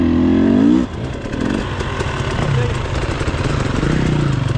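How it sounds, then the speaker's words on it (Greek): Motorcycle engine running close by on a road, a strong idling hum dipping briefly as it brakes, then a steady mid-pitched drone continuing with light rattles throughout. "Φρενάρει το μηχανάκι."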